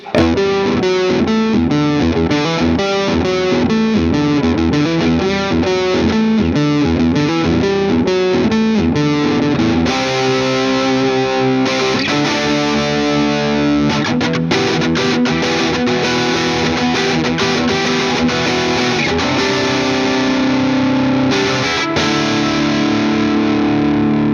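Loud overdriven Harley Benton CST 24 electric guitar with a crunchy, mid-focused bridge-pickup tone, playing chords and riffs continuously without any voices.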